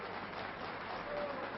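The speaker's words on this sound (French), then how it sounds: "Et le public applaudit." An audience at a judo match breaks into steady, even applause, a dense wash of clapping that holds at a moderate level for the whole moment without any clear peaks.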